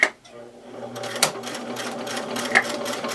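A sewing machine stitches through tough material while repairing a dog's wheelchair, running steadily and close with a few sharp clacks as it labours, and a voice speaks over it.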